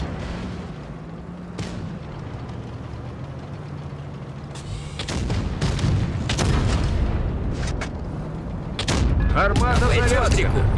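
Tank cannon shots from the video game World of Tanks Blitz boom through a steady engine drone, with several sharp blasts and crackling bursts in the second half, mixed with game sounds.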